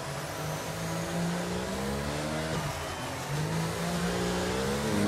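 A race car engine revs continuously during the final race of a season, its pitch climbing and dipping in sweeping waves, loud and close throughout.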